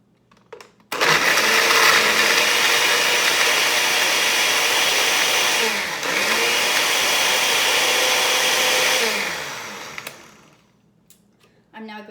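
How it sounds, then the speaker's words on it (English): Countertop blender whirring loudly while blending a smoothie, a sustained close roar lasting about nine seconds with a brief pitch shift midway before winding down. "So I'm going to blend it right here in the speech."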